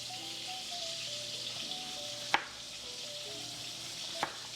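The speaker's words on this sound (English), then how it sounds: "while my pork chops are frying" Pork chops fry in oil in a pan with a steady, even sizzle and crackle, broken by two sharp knocks or clicks close by.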